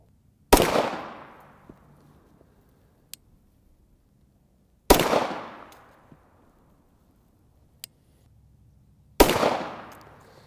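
Three sharp, loud shots from a cheap Hi-Point pistol fired at a 30-yard outdoor range, spaced about four seconds apart, each with a short ringing tail, and small clicks between them.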